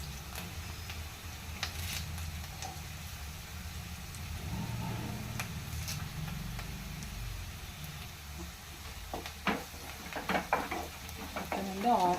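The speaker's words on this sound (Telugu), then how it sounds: "ఇప్పుడు కరివేపాకు వేసుకుందాం" Curry leaves and chopped onions sizzle in hot frying oil for a carrot fry, a steady crackle with occasional stirring and utensil clatter that grows busier and sharper toward the end.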